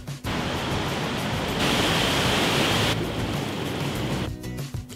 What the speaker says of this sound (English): Yep, water.